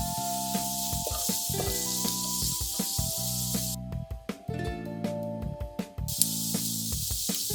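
Onions sauté in a pan with curry leaves and ginger garlic paste, a steady close sizzle and hiss broken by stirring scrapes and clatters, with no one speaking.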